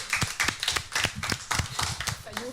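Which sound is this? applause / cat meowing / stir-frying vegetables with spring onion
applause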